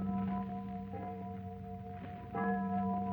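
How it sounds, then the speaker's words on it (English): A church warden rings the Angelus bell: sustained, droning tolling tones with strong steady partials that swell again near the end, heard alone with no talk, from a radio drama. "I'll have the church warden ring the Angelus bell."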